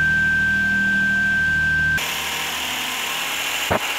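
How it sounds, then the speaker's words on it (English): A Lexus Toyota car engine idles with a steady hum after an ECU swap and immobilizer key programming, the tone shifting abruptly midway into a rougher, broader running sound, close and fairly loud, with a short knock near the end. "That's it, my engine is running."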